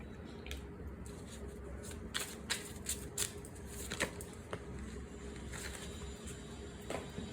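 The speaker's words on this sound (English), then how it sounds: "We will be pulling out 6 cards." Tarot cards are shuffled and drawn from a deck, giving a series of light, crisp flicks and snaps, close and fairly quiet over a faint steady background hum.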